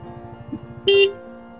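A car horn gives a single short honk as a test on a monsoon ride, sounding after a low rumbling engine idle and brief, fairly close and moderately loud.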